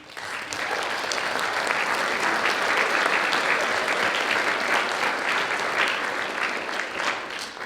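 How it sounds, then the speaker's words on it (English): Audience at a high school fall music concert applauds steadily, a dense wash of many hands clapping at even volume throughout, heard from within the hall without pauses. "Can we have a round of applause for you guys?"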